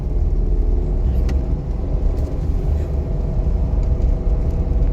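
A car's engine is held at steady revs during a driving lesson, producing a loud, continuous low rumble and whir from inside the car, with no one speaking.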